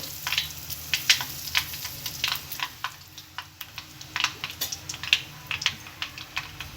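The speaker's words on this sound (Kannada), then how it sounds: "ಸಾಸಿವೆ ಸಿಡಿಬೇಕು" Mustard seeds and cumin spluttering in hot oil, with many sharp irregular pops and crackles over a steady low sizzle, close and lively throughout.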